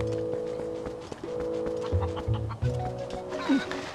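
Hen clucking in the Zelda: Twilight Princess game, a run of short clucks and squawks over a steady droning background tone, moderately loud with no talk.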